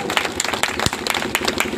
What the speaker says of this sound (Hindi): उनके लिए ताली बजाते दिल से ताली बजाते थे।